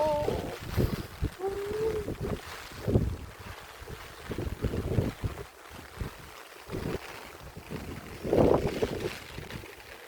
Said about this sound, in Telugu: గాలులు అయితే విపరీతంగా ఉన్నాయి.